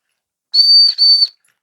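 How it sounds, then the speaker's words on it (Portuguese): A piercing, high whistle from a sports-car sound device sounds in two sustained bursts with a brief dip between, loud and close against silence. "É tipo um apito"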